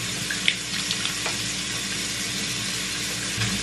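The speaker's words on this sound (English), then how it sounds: "I'm gonna wash my hands." Hands being washed under a running tap at a sink, a steady close rush of water filling the whole stretch with a few faint splashes and clinks over it.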